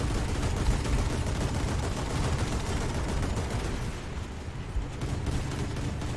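Steady heavy naval gunfire booms from the 100mm guns of the Italian cruiser Bartolomeo Colleoni in War Thunder, loud rolling blasts merging into continuous rumble with no talk.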